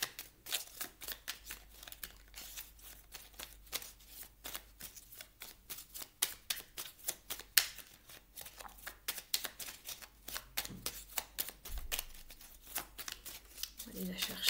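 Tarot cards are shuffled by hand in rapid, continuous riffles of crisp papery clicks and slaps, close and steady throughout, with a voice faintly present underneath at times.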